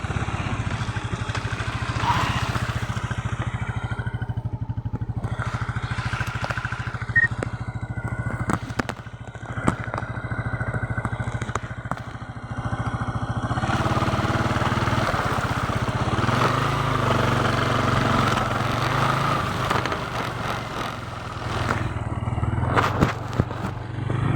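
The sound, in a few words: motorcycle riding on rough road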